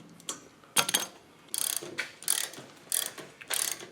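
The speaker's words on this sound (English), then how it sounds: "get a little hex head ratchet for this, and you can speed these bolts in" A small hand hex head ratchet drives bolts into a mullion cutter die set, giving rapid clicking ratchet bursts in several short repeated runs, close and crisp with brief pauses between strokes.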